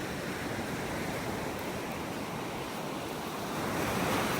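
Surf washing onto a North Naples, Florida beach in a steady broadband roar, with wind noise on the microphone and a slight swell in loudness near the end; no one speaks.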